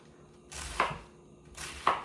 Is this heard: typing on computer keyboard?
no